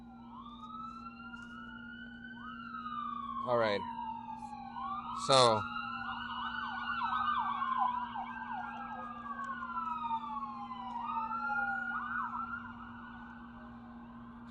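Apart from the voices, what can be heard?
ambulance sirens passing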